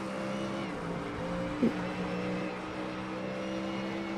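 Ford Mustang GT3 race cars in iRacing at Sebring produce a faint, steady engine drone with a sustained tonal whine and a brief click near the middle, heard quietly in the background.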